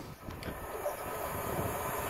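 A Class 390 Pendolino train, Virgin Trains unit 390040, passing through Leyland station on the way to Preston: a steady, loud rushing roar from start to finish, with no voices.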